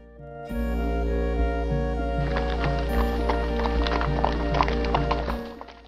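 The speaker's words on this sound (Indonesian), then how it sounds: "Di atas kuda, Pangeran Purbaya sesekali memacu kudanya." A horse gallops with steady clip-clop hoofbeats under a sustained musical drone, the hooves getting busier and louder midway, with no voices.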